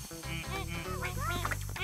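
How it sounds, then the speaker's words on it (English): Cartoon ducks in a Maisy Mouse story give a quick run of nasal quacks close up, blending with other voices and sounds. "Oh, ducks."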